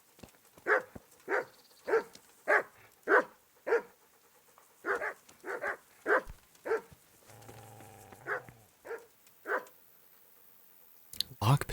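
Repeated sharp dog barks in Kingdom Come: Deliverance, roughly a dozen close, loud woofs in an uneven rhythm, with a short quieter gap partway through and a brief click near the end.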